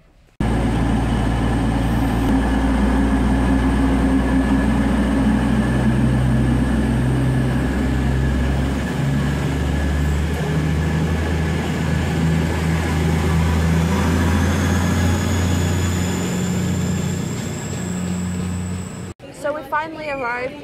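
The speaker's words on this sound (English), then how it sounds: "Currently on the train and not far from here." Steady, loud rumble of a passenger train interior on a journey toward London St Pancras, a continuous low drone with faint whines, ending in a brief dropout and shift near the end.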